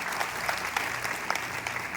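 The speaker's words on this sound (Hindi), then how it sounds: "एक बार सबके सामने जोरदार ताली चाहिए" Loud, thick applause from a crowd at a celebration speech event, continuous, busy clapping with no pause throughout.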